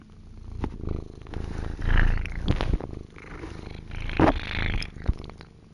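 A cat purring in the video game Lies of P, a close, rough, rhythmic rumble swelling and fading with each breath over several cycles, with no speech.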